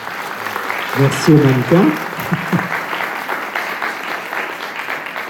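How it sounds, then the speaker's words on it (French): Audience applause for the models at a Breton costume clothing contest in Pommerit-le-Vicomte, sustained crowd clapping with someone briefly speaking over it early on before the clapping continues alone. "On peut vous applaudir."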